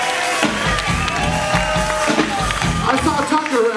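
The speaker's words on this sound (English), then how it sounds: "Everybody clap to Zane over there." Festival crowd at an outdoor music jamboree claps and cheers in steady rhythmic applause, with loud shouts and music mixed underneath, near and continuous throughout.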